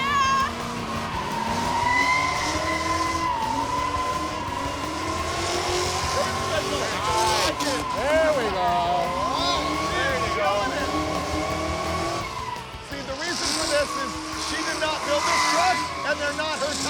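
A car on tiny tires doing a smoky burnout, a steady engine drone with wavering squealing tires, while people talk and exclaim over it.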